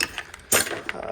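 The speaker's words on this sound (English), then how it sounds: "We'll go back over here and grab a wrench real quick." A wrench clicks and clatters against a fitting on a Dakota/Durango return-style fuel system, with one brief, sharp metallic burst midway and quieter ticks around it, close by.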